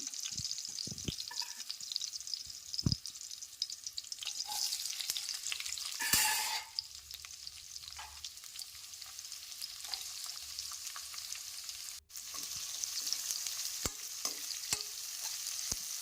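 Onions fry in oil with curry leaves and garlic, a steady close sizzle with occasional stirring scrapes and clinks, no voices.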